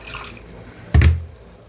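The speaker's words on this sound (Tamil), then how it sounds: "நம்ம குழம்புக்கு என்ன தேவையோ அவ்வளோ தண்ணி ஊற்றிக்கிறணும்" Water is poured in a single short splash into a pan of capsicum kurma gravy, a brief close pouring sound after a quiet moment.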